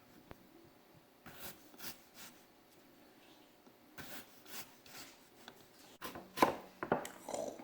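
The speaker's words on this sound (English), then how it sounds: "And now that potato has been sliced." A knife slicing a potato for hasselback potatoes, cutting thin slices partway through on a board: a series of quiet rubbing, sawing strokes at an uneven pace, close and faint, with no talk.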